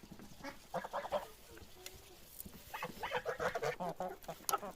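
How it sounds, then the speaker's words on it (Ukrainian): Ducks and chickens in a village farmyard honk, quack and cluck in scattered bursts, fairly close and moderately loud, with short quiet gaps between the calls. "качки щось не хочуть."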